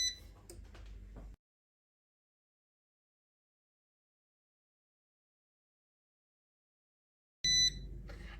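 A short, sharp electronic beep from an air fryer sounds near the end after a long silence, with brief clattering kitchen noise at the start.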